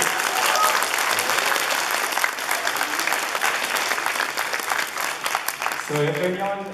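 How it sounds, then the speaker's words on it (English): Convention panel audience at an anime event applauding after a game-development presentation, a broad sustained burst of clapping that tapers, with a voice starting up at the very end. "Please give a big clap for Hideo here."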